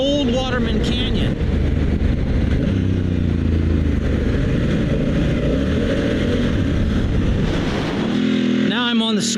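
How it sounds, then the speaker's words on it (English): A motorcycle riding on Pirelli Scorpion Rally STR knobbly tires through deep sand, its engine droning loud and steady throughout while the rear tire spins hard for traction, with a voice briefly talking near the end. "That back tire is having to spin really hard in order to push forward in this deep sand"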